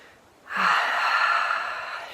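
One long, deep breath is drawn in and let out slowly, a soft airy rush that rises quickly and fades gently. It is close and heard on its own, with no talking.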